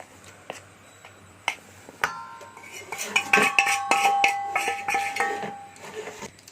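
Cake batter being stirred in a bowl after flour is added, with a spoon scraping and clinking against the bowl in quick repeated strokes, close and fairly loud, and no talk.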